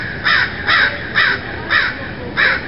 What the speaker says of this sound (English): The crows are in on it too.